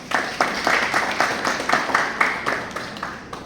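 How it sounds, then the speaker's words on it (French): Audience at a contest ceremony applauds the contest's general coordinator, a steady, moderately distant patter of many hands clapping for a few seconds, with faint murmur underneath. "je vous prie de l'applaudir"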